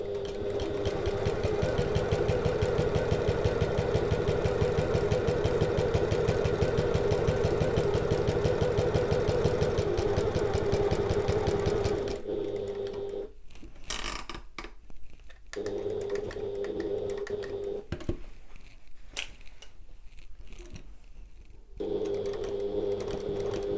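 A sewing machine stitches an oval bag in a long steady run, then stops and starts in shorter bursts with pauses and clicks, a close, even mechanical hum throughout, no talk.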